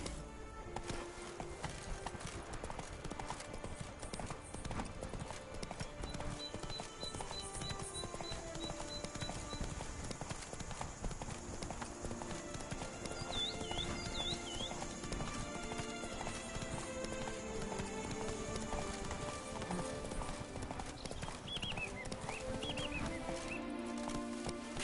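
Hooves of Roach, Geralt's horse in The Witcher 3: Blood and Wine, clip-clop steadily at a running pace, overlaid on game music and ambient sound throughout.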